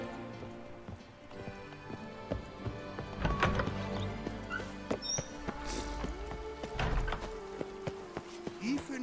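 A horse at a constant gallop in Witcher 3, rhythmic hoof clip-clops running steadily under game music and ambient effects, with a few sharper thuds.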